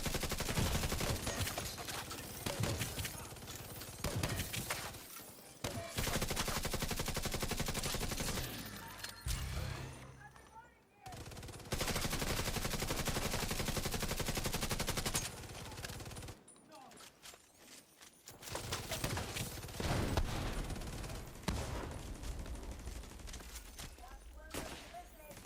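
Sniper rifle fire and other gunfire in The Division 2 video game, heard as loud, dense bursts of shots and explosive noise that stop briefly twice, with what seems to be voice chat mixed in.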